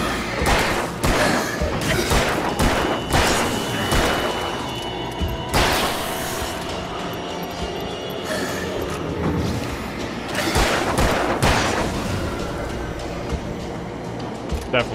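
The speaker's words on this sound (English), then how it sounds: "Thank you, fireworks!" Fireworks burst in the Alan Wake video game, giving several sharp booms and crackling blasts over a dense, continuous game soundscape, loud and close, with someone talking over parts of it.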